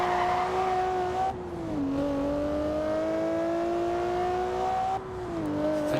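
A V12 quad-turbo car engine with 60 valves in Forza Horizon 2 drones loudly and steadily, its pitch climbing through gears with two brief dips at shifts, alone without talk.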